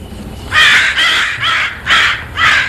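A crow caws five times in a loud, close, evenly spaced series of harsh calls, alone with no talk.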